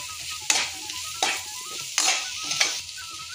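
Chopped onion and capsicum fry in a pan with ginger-garlic paste, a steady close sizzle broken by four sharp scrape-and-stir strokes spaced through the moment, with no talking.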